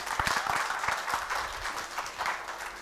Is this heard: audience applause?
yes